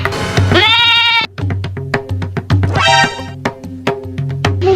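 A goat bleats loudly twice at close range, long wavering cries separated by rhythmic clicking or tapping; no one speaks.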